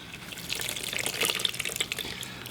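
Hot water streams steadily from a tap onto fragile homemade glitter foam, a continuous close, moderate hiss and patter with small drips, no voices.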